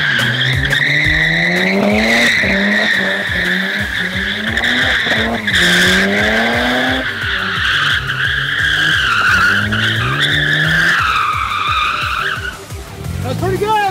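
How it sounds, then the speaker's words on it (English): A Mazda RX-7 with a rotary engine spins donuts, its tires squealing continuously while the engine revs and wails loudly and close throughout, with only brief dips in the screech. "Up next is the RX-7. The rotaries, you're gonna do some rotaries."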